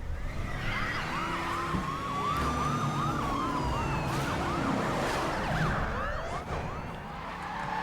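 Police sirens wail and sweep in overlapping rising and falling tones during a police chase in Need for Speed: Most Wanted (2012), loud and continuous over a steady car engine roar.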